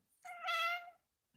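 An older cat lets out a single clear, drawn-out meow at close range, rising and falling over roughly three-quarters of a second in an otherwise quiet room, with a tiny soft noise just after.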